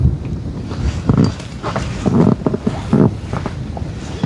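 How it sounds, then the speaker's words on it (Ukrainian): Steady gusty wind buffets the microphone with a low, continuous rumble throughout, rising and falling slightly in strength, outdoors while fishing for pike. "Ну, уже вітер, конечно"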